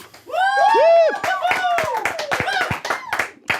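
Audience applause and cheering welcoming James Rolfe, the Angry Video Game Nerd, onto an interview stage: loud whoops and shouts from the crowd at first, then steady clapping that continues throughout.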